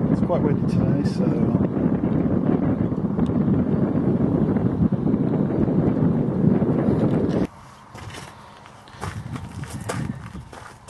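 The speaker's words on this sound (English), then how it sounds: "It's quite windy today" Strong gusty wind outdoors buffeting the microphone in a loud, continuous low rumble for most of the clip, then dropping away abruptly to quieter ambience with light rustling near the end.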